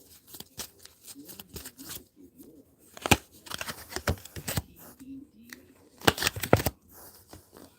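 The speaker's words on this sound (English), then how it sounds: "I know it seems like a lot of shuffling just to pull out 2 cards." A deck of tarot cards is shuffled in quick riffles and crisp flicking bursts, close and fairly loud, grouped in irregular clusters with pauses between them.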